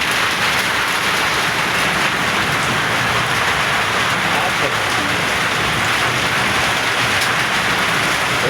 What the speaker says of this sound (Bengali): খুব জোরে জোরে বৃষ্টি হচ্ছে